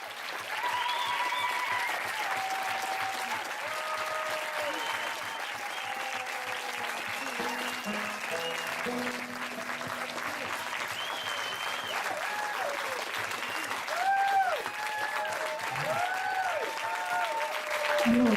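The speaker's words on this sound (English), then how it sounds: "I don't want to hear you clap" Sustained audience applause fills the space at an even, moderate level throughout, with scattered voices and whistles rising over the dense clapping.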